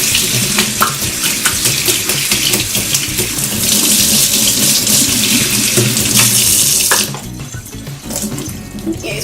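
Makeup brush held under a running tap in a sink, a loud close stream of water splashing steadily before the flow is cut and quieter drips and handling follow.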